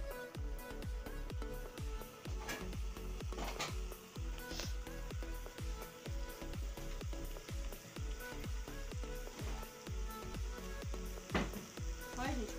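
Meat fries hard in a pan, a dense continuous sizzle and crackle with rapid popping spatters throughout, close and loud, while a voice talks faintly underneath.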